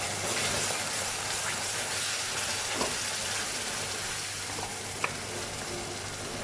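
Ground roasted masala goes into a pan for Kerala-style chickpea curry, filling the space with a steady, dense sizzle and frying hiss, broken by a faint scrape or two from stirring, close and continuous.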